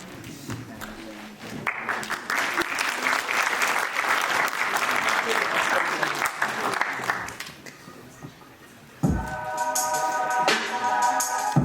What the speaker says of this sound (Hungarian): fogadjátok nagyon nagy szeretettel és hatalmas nagy tapsal